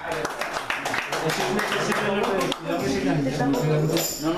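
Guests at a home music recital clap for a percussionist, a steady patter of hand claps mixed with voices talking over it.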